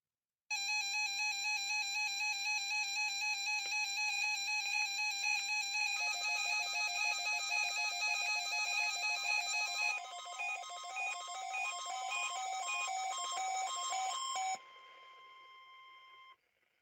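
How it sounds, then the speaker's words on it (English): A NOAA Weather Radio public warning alarm test signal: a loud run of electronic data bursts and tones, changing pattern partway through and ending abruptly, with no speech. "The preceding signal was a test of the public warning and alarm for transmitters in the Florida listing area"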